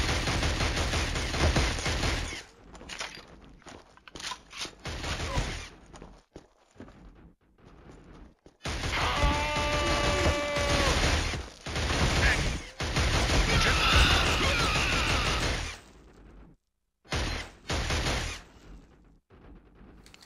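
Bursts of gunfire from the Killzone HD video game, rapid shots in several loud clusters separated by brief quiet gaps, with some clattering in between.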